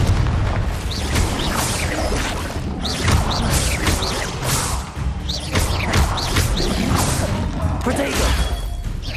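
Confringo blasting spells in Hogwarts Legacy set off booming explosions over a dense layer of battle noise and whooshing effects, with thumps and crashes recurring throughout.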